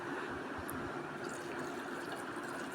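Water poured into a pressure cooker for a home-cooked Sunday dish, a steady close splashing fill that runs without a break and without talk.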